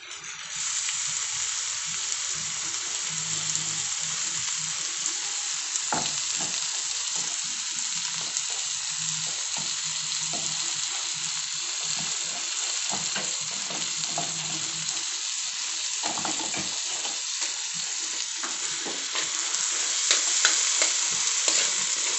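Corned beef fries with a steady loud sizzle in a pan, with frequent scraping and stirring strokes breaking through the hiss for about twenty seconds and no talking.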